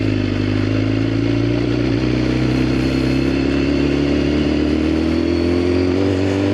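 A 1000cc hyperbike motorcycle engine under way, a loud steady droning hum with a slowly rising pitch and continuous road and wind rush, close, no talking.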